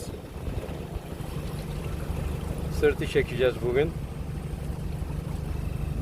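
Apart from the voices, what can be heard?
fishing boat motoring on the sea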